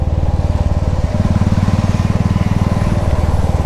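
A motorcycle engine runs steadily up close, a loud, even rhythmic thumping idle that holds throughout with no talking.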